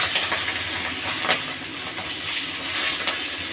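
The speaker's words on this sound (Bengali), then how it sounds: "মাছটা আমি খুব লাল করবো না, হালকা করবো, হালকা করে ভাজবো, যেহেতু মাছের ডিম আছে" Hilsa fish with roe frying lightly in a pan with eggplant, giving a steady close hiss and crackle with brief louder bursts of spatter.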